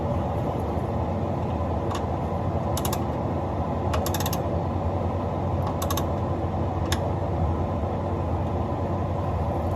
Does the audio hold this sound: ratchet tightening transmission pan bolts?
yes